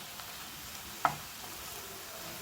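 Bread slices frying in a pan until golden red for double ka meetha, giving a faint steady sizzle with one brief louder crackle partway through.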